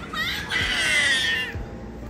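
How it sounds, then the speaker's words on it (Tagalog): At an airport check-in counter, children scream and wail in a loud, high, sustained outburst lasting a couple of seconds over busy terminal background noise. "Ang mga anak ko ay sumisigaw na."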